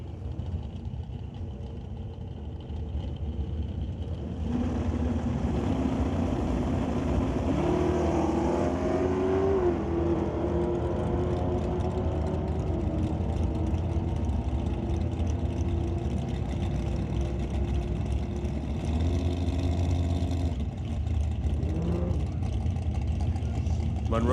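Drag race cars, a Mustang against a Chevy Nova, roar off the line and rev hard with rising engine tones before fading, while a commentator talks over the noise.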